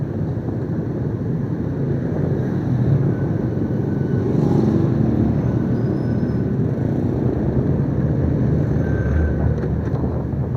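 Steady traffic roar from inside a moving vehicle in Saigon, Vietnam, with cars and motorbikes around, a continuous low engine-and-road rumble with wind buffeting and no breaks.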